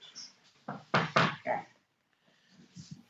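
Knuckles rap on a wooden surface, about four firm knocks close up in quick succession, then a quiet pause with faint movement.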